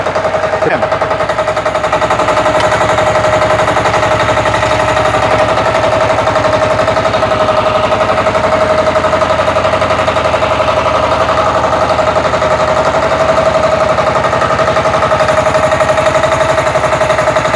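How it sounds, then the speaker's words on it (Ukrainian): Walk-behind tractor (motoblock) engine running with the clutch in first gear and wheels locked, a loud, steady, rapid mechanical chugging with a constant drone and no letup, heard close up. "вижимаю щеплення, ставлю першу, блокую колеса"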